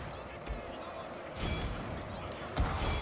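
Musket and artillery fire from a samurai-era strategy battle in Shogun 2: Fall of the Samurai, a few sharp booms around a second apart over a rumbling battlefield din, with someone talking beneath.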